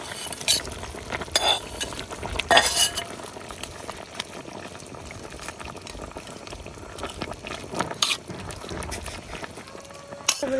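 Puti fish are added to a pot of simmering curry with beans and fried potatoes, giving soft stirring, bubbling and occasional clinks of utensil against pan, with a few sharper scrapes, close and moderately loud, with no talking.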